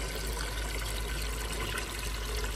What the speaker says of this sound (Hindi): यहाँ पे बाल्टी भरने के लिए आ गई हूँ, लेकिन आज अकेले अकेले काम ही करना पड़ गया है और यहाँ पे ऐसे भरते हैं पानी जल्दी से।